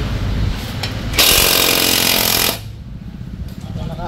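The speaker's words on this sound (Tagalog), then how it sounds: "Sa ating 21 volts na maliit na impact wrench." A small 21-volt cordless impact wrench hammers loose a large nut, with one loud, steady rattling burst lasting about a second and a half amid surrounding workshop noise.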